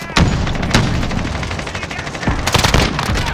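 Machine gun fire in the Modern Warfare video game: loud, close bursts of rapid automatic shots, nearly continuous and densest toward the end, with no voices over it.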